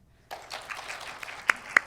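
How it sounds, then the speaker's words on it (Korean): Faint audience applause at the Korean Women Journalists Association's 60th anniversary ceremony, celebrating the publication of two books: a soft, distant patter with two sharper single claps standing out near the end. "이 두 권의 책의 이 발간을 다시 한번 힘찬 박수로 축하해 주시기 바랍니다"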